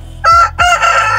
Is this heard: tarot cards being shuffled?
no